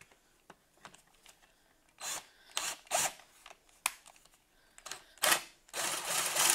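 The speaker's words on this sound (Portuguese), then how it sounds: "E agora vou fazer mais este furo." Power drill with a wood drill bit boring a hole in wood for a decorative tray at a workbench, short bursts of whirring that start and stop several times, close and moderately loud.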